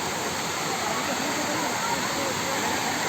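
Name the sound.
waterfall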